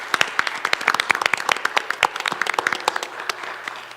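A small group at a county school board meeting claps for police officers, the individual hand claps sharp and distinct in a quick uneven patter that tapers off after a few seconds.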